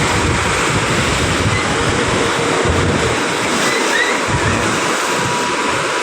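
Sea waves roll onto the Manila Bay shore at Navotas, a steady broadband wash of surf mixed with wind buffeting the microphone, continuous and fairly loud with no voices.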